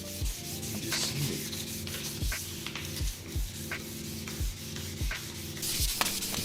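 Hand wet sanding on the painted bodywork of a Harley Sportster, heard as close, rhythmic back-and-forth rubbing strokes repeating about every second, alone with no talk.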